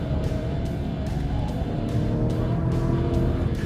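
A loud Chrysler 300 American V8 engine revs and roars steadily up close, with a deep rumbling growl and rising pitch, no talking.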